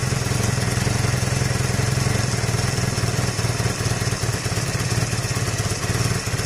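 A Honda CB250 cafe racer motorcycle engine idles steadily and close up, with a low, even, slightly clattery rumble and no voices.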